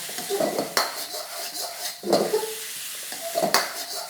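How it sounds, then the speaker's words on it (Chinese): Pineapple fried rice with cashews and fish sauce stir-fried in a pan, a spatula scraping and clanking against the metal three times in rhythm over a steady sizzle, loud and close. "好，我们再炒一炒就可以出锅了"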